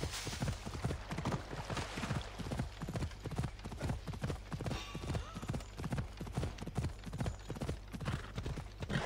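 Horse hooves gallop in a rapid, steady clip-clop rhythm in the Assassin's Creed Odyssey video game, fairly faint but close and continuous, with brief voice bits in the background.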